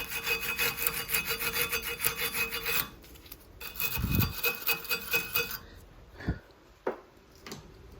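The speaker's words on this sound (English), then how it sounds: "get yourself a wire brush and clean those bits" A wire brush scrubs rust and dust off the rear brake parts of a 2005 Honda Jazz 1.4 auto, in rapid rhythmic raspy strokes close by, pausing briefly, then resuming before a few clanks of metal.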